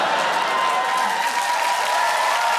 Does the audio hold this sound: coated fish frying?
no